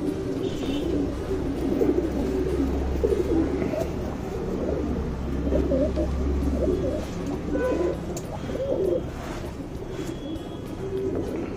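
Pigeons of the pilanka breed, a regdar pilanka male paired with a boori pilanka hen, coo steadily in soft low repeated phrases through an even background murmur, close by, with no talk.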